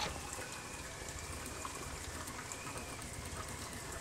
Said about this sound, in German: Ja, wir nehmen eine kurze Dusche.